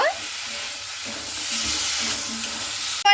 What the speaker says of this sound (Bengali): বেগুনটাকে দিয়ে একটু মশলার সঙ্গে খুব ভালো মতো করে নাড়াচাড়া করে নেব